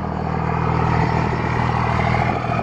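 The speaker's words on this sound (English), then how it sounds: "Truck sounds great." A 2002 Dodge Ram 2500 Laramie Sport 4x4 with a Cummins diesel engine and six-speed, running steadily at idle, a loud, close, continuous low rumble with a dense clattering texture and no talk.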